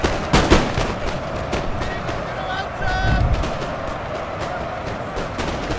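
Massed musket volleys in a Napoleonic battle on the Waterloo field, with sharp cracks clustered early and scattered reports through a dense, rumbling din of battle noise, moderately loud throughout.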